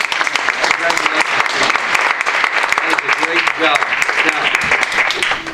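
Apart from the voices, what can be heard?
audience applause for spelling bee champion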